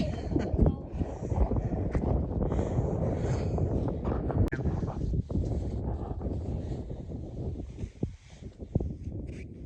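Wind sweeps across a rocky forest overlook on the Beartown Rocks Trail in Clear Creek State Forest, a steady, close roar buffeting the microphone, with occasional brief knocks.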